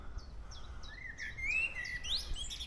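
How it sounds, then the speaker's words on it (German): A bird sings energetically from a perch overhead outdoors beside the Holy Sepulchre replica in Görlitz, bright rising whistles and chirps over a steady rushing background of wind or distant traffic. "Da oben sitzt ein Vogel und singt wie verrückt."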